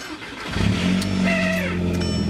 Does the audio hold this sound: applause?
no